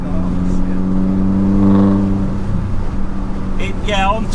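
A modified R56 Mini pulls hard on throttle, its engine note rising in a strong, close buzzing rumble for a couple of seconds before easing, with people talking inside the car.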